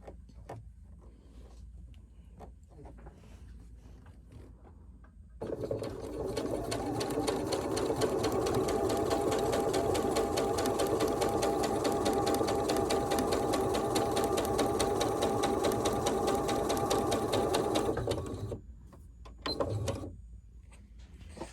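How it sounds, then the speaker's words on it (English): Sewing machine stitching straight down through a quilt block, a steady loud mechanical whir running continuously for about twelve seconds after a few quiet handling clicks, then stopping. "I'm going to stitch straight down all the way through"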